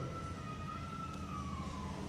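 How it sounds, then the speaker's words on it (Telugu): A fire engine siren sounds at a fire station during a school visit. It gives a steady, slightly falling wail that is fairly faint and distant, over a low background rumble. "fire engine"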